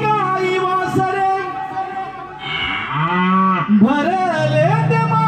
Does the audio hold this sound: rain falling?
no